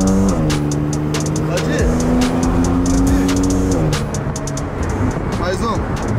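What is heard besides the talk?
Porsche car accelerating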